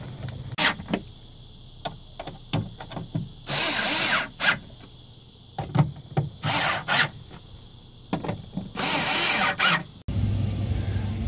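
Cordless power drill driving screws while a replacement front door speaker goes back into a Subaru Outback door, with repeated short bursts and longer whirring runs, close and loud, no talking.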